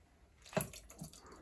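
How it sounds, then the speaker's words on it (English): Half a portion of small baby shrimp is poured into a blender, giving a brief wet splat and soft squishy drips, quiet and close. "I'm only going to pour in half the shrimp"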